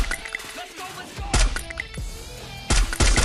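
Sharp, loud gunshots go off in the video game Free Fire, with a few single shots and then bursts near the end, mixed with other game sounds.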